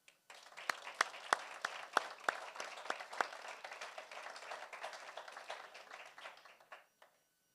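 Applause at a school district board meeting honoring students, a modest group clapping with a few loud nearby claps early, building then thinning out and stopping near the end.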